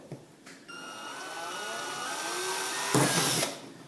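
A power drill bores a hole through the lip of an aluminium soda can for a homemade alcohol stove, a rising whine that holds steady for a few seconds after a couple of short taps, close and fairly quiet.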